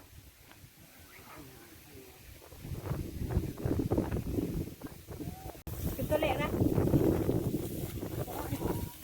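Wind gusting across an open rice field during harvest, a rough, rumbling buffet on the microphone that swells louder partway through, while a person talks close by.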